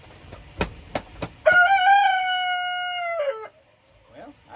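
Chicken run at night lit by a small solar coop light: a single loud, close rooster crow holds steady for about two seconds after a few sharp taps, then stops into near silence.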